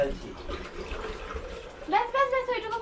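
Water pours into a jug in a home kitchen, a gurgling fill whose pitch rises near the end, with people chatting quietly in the background.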